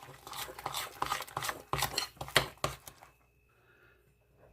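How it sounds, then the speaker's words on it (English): Wet cookie ingredients mixed in a bowl, a run of rapid scraping, clinking utensil strokes for about three seconds, then quiet. "I'm going to go ahead and mix this together"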